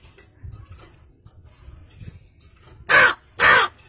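A man imitates a crow's caw with his voice, giving two loud, harsh caws in quick succession near the end, after a stretch of quiet low murmuring.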